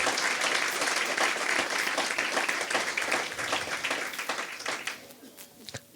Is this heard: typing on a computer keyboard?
no